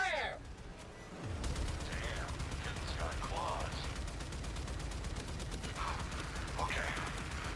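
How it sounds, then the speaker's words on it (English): Torpedoes fire from all bays of a ship in the Warframe video game, a loud, dense barrage of rapid launch blasts and booms that keeps going without a break after a brief quieter start. "Torpedoes! All bays! Fire!"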